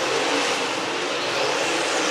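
Dirt race car number 16 roars down the back straightaway at Talladega Short Track, a loud, continuous high-revving engine drone with no pauses, heard alone.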